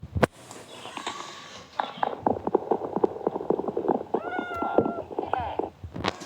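A game cat meows a few times amid clicks and footsteps, with a voice talking over the sounds.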